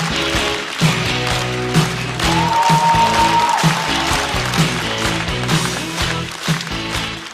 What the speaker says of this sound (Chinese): 掌声有请侯志远。